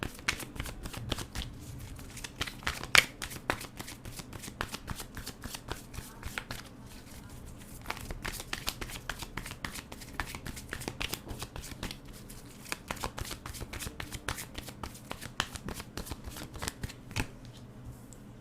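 Tarot cards shuffled continuously in a quiet room, a steady run of soft riffling flicks and taps with no voice over them.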